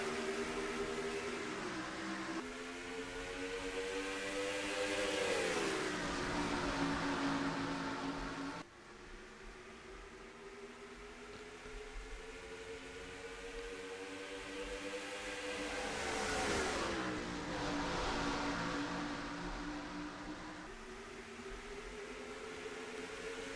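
Race cars accelerate around Rockingham Speedway in a racing video game, engines rising and falling in pitch as they sweep past in two long, swelling passes, loud and without talk.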